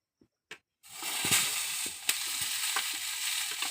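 Onion hits hot oil in a pan where potatoes have been frying: after a few soft taps, a sudden loud sizzle bursts out and continues steadily with crackling pops.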